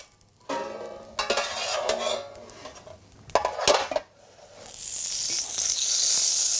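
Smoked duck cracklings are spooned into a cocotte: metal spoon scrapes and clinks against the pot come first, and then a steady, close, bright sizzle as they hit the hot fat, with no one speaking.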